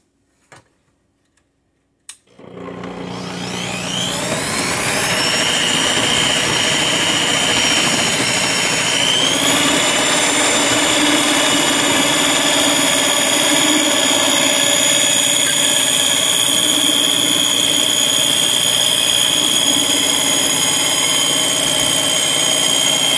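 An electric mixer cuts cold butter into scone batter for homemade cranberry scones, starting after a couple of clicks with a loud, steady whirring drone that runs on continuously, its pitch rising slightly partway through.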